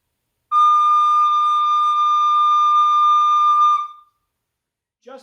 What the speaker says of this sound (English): if I pick my fingers up off the holes, the recorder makes a high sound